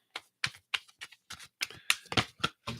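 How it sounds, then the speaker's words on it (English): A computer keyboard is struck in a quick series of about ten sharp, close clacks, evenly spaced, with silence between hits and no talking. "I hit my keyboard."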